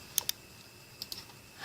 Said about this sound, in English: and then simply clicking on start